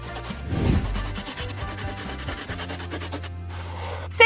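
Coloured pencil rubbing back and forth on paper to blend colours, a soft, close, continuous scratchy rasp with uneven strokes and no talk.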